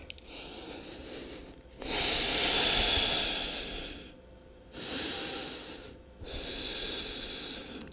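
Deep, slow full-body breaths held in a yoga floor pose, three long breathy swells each lasting a couple of seconds with soft pauses between, close and alone.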